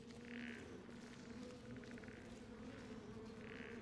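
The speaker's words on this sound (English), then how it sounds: "Oh, and he sounds like bees." Buzzing drone of an enemy in the Skyrim video game, resembling swarming bees, holds steady throughout with pulsing higher swells over a constant low hum.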